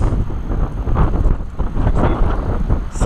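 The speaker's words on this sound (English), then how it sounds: "It's a little windy." Steady wind buffets the microphone outdoors on open water from a fishing boat, a loud rushing roar with low rumbling gusts throughout and no talking.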